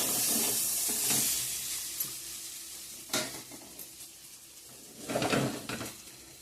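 Vegetables with ground spices sizzle and fry in a pan, with a few distinct stirring scrapes and clatters around a steady hiss, close and fairly soft.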